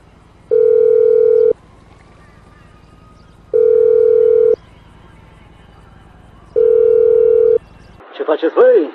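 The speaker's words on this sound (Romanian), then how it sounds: "ce se întâmplă dacă sună numărul ăsta de telefon din GTA 5" Phone in GTA V calling a number: three long, loud, steady ringback tones about a second each with pauses between, then a brief burst of voice at the end.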